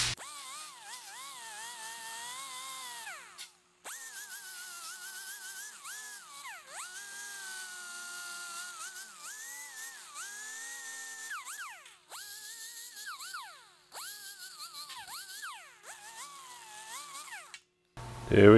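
A high-pitched power tool whines continuously while polishing a body hammer face, its pitch rising and falling as it bears down and eases off, with a few brief pauses.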